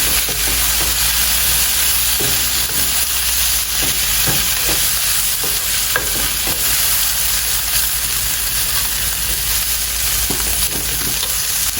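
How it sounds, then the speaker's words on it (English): Bacon and onions sizzle and crackle steadily in a hot pan, a constant close frying hiss with scattered pops and occasional stirring scrapes. "Bacon and onions, y'all."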